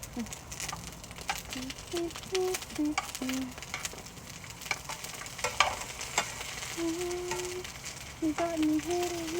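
Eggplant frying in a pan of hot oil while tilapia cooks, a steady sizzle broken by spatula scrapes and stirring clatter, with a few brief tonal squeaks in between.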